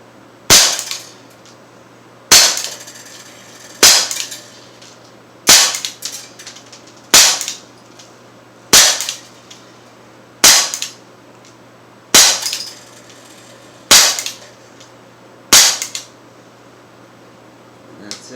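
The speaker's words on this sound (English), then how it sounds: "I'm gonna shoot right into my pellet trap." Ten sharp shots ring out from an Umarex Colt M45 CO2 blowback air pistol in .177 caliber, fired into a pellet trap, each crisp crack followed by a brief metallic clatter, evenly spaced and loud up close.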